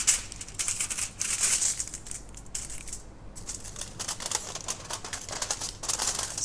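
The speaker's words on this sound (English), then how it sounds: "So now cover your piece of paper by tinfoil." Sheet of tinfoil crinkling and rustling as it is wrapped over a piece of paper for a children's craft, a close, steady run of crisp crackles with a brief lull midway.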